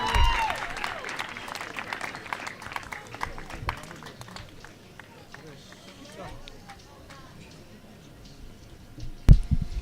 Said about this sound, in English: Big applause for a Marizal Rousseau running shot that seems to have come off